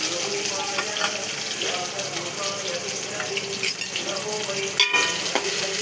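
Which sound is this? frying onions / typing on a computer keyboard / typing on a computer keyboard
frying onions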